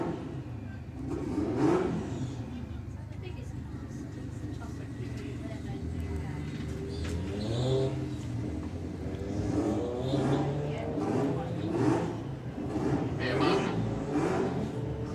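At a Santa Pod drag strip, an Audi and a VW Beetle launch and pull away with a roar of medium engines, revving and accelerating for several long pushes under a commentator talking throughout.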